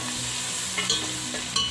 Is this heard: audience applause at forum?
no